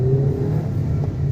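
A Hyundai Creta's engine revs steadily as the car accelerates, a loud, close, continuous droning whir heard from inside the cabin with no talk.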